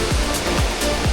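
A tall waterfall in the Philippines roaring as a loud, constant broadband rush of falling water, close and unbroken throughout.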